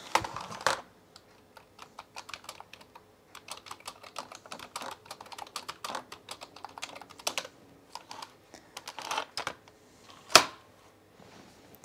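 Rapid typing on a computer keyboard, irregular clusters of light key clicks with occasional louder taps, close and fairly quiet with no talking.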